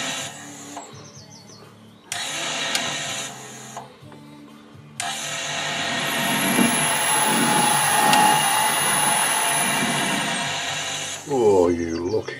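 A metal lathe screw-cutting an adapter for a wood lathe chuck starts and stops in short motor bursts, then runs for several seconds with a loud, steady mechanical whine and hum close by, and a brief voice comes at the end.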